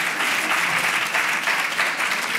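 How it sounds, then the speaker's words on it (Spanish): A conference audience claps steadily and evenly, dense and fairly close, with no voices standing out. "Así que un fuerte aplauso para Raimon Sansó y os dejo con él."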